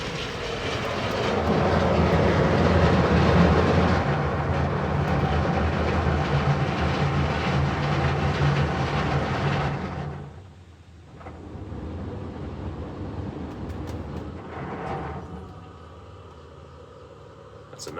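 A D&S IQ Soft Touch car wash machine works over a car at Squeaky's Car Wash in Carson City, Nevada, with a loud steady whooshing roar and drone that drops off, then resumes more softly.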